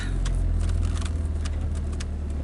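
A car reversing, heard as a steady, fairly loud low engine drone with a faint rhythmic pulsing and a few light clicks or jingles above it, with no talk.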